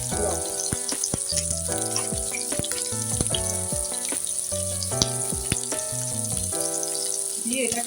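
Turmeric and salt sizzle in a hot frying pan while lentil curry is cooked, a steady close frying hiss running throughout beneath loud, prominent background music.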